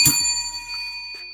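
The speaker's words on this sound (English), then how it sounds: "Let's ring that bell once again." A small bell is rung once during a livestream, a bright quick strike whose clear metallic tone lingers briefly and fades.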